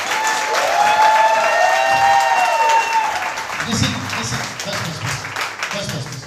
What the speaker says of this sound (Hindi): एक अच्छी ताली सिर्फ यीशु को